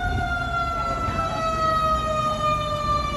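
Several emergency sirens from police cars and fire trucks wail together in steady, sustained tones, fairly loud and continuous over low traffic rumble, with no talk.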